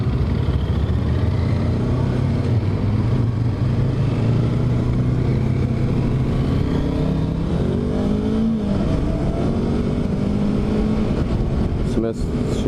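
A Yamaha R3 300 cc motorcycle under way, its steady engine drone rising in pitch through each gear and dropping at the shifts, heard continuously and close over constant wind roar.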